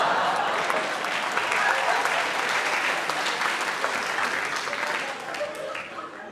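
A comedy audience applauds a performer named Bertrand at a dark-humour show, with dense, sustained clapping from a full room that fades slightly near the end while a voice talks over it.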